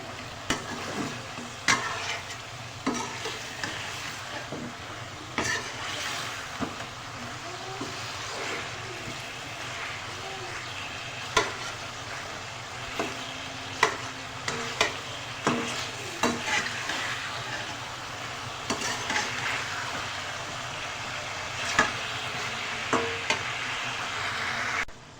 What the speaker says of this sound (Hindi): अब हल्दी डाल के हमने बहुत अच्छी तरह भुनना है